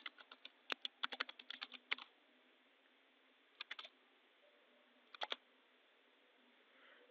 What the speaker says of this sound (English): So we type the formula like this and then we press equal to.